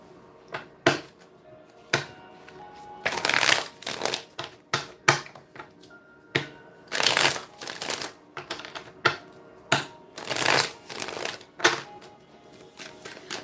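Tarot cards shuffled by hand in repeated bursts of riffling and crisp flicking, with short pauses between the bursts, close and clear with no talking.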